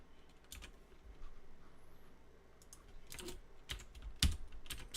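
Irregular bursts of typing on a computer keyboard, close and fairly quiet, with short clustered keystroke runs separated by brief pauses and no talking.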